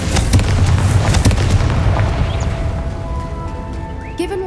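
A Confringo explosion spell in the Hogwarts Legacy game, a loud rumbling boom with crackling bursts that rolls on and slowly fades, followed by faint tonal ringing and a brief chirp near the end.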